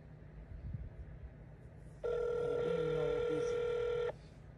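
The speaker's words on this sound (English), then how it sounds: "How many times this phone gonna ring?" A telephone rings with a steady electronic tone lasting about two seconds, fairly loud and close, over a low background hum.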